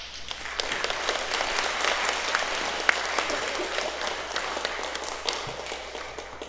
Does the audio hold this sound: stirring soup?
no